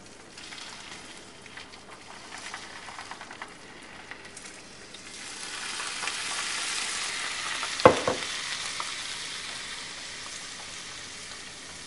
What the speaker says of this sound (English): we're going to add about a cup of beef stock to the pan